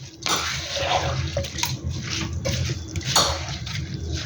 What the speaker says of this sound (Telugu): 1 గ్లాస్కి 1 గ్లాసున్నర వాటర్ వేసుకుంటున్నాను